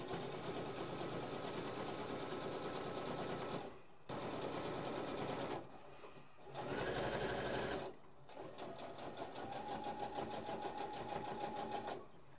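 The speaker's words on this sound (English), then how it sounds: "So that was literally a securing stitch." Sewing machine running a securing stitch on linen, a fast steady mechanical whir in several bursts separated by short pauses, close and loud.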